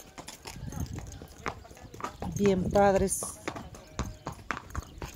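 A horse being ridden in a rural setting gives steady clip-clopping hoofbeats up close, running under nearly continuous talk from a woman, with a brief harmonic whinny-like sound in the middle.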